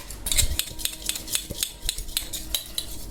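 Metal utensils and a plate being scrubbed lightly by hand with a homemade cleaning paste: rapid, rhythmic scraping and clinking strokes, close and fairly loud, with no speech.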